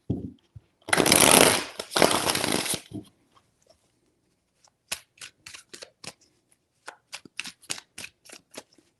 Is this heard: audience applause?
no